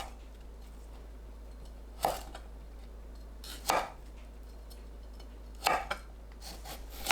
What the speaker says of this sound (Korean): 씻은 브로콜리를 한 입 크기로 썰어주세요.